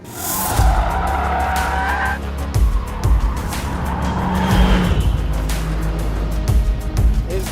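Mercedes-AMG C63 with a 2-litre inline-four hybrid powertrain launching hard off the line, a loud rising engine roar with tyre squeal and skidding, close and sustained without speech.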